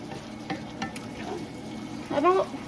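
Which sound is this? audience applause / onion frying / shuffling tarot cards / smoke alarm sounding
onion frying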